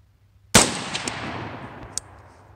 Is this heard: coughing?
no